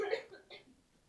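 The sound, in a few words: woman in audience coughing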